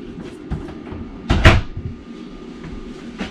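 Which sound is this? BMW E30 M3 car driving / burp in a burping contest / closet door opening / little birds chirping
closet door opening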